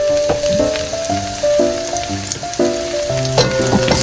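Spring onion and other ingredients for a seabass sinigang sauté in a pan, giving a crackling sizzle under louder melodic background music.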